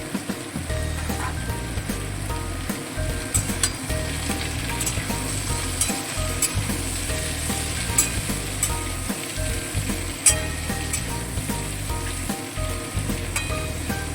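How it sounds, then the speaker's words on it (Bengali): Mixed vegetables, including cut pumpkin, stirred and fried in a pan for a jackfruit-seed curry, with a steady close sizzle and regular scraping of the spatula against the pan throughout. "সমস্ত সবজিগুলো আবারও খুব ভালোভাবে নেড়ে চেড়ে ভেজে নেব"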